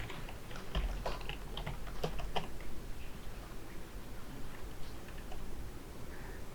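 Steady, soft clicking of a computer keyboard as a sequence name is typed, a run of light close keystrokes over a faint background hum, with no talking.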